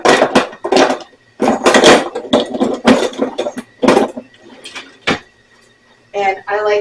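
Salted caramel pear butter is scooped through a funnel into canning jars, with a series of close, loud clinks and scrapes of a ladle against glass and metal in irregular bursts, followed by brief voice sounds.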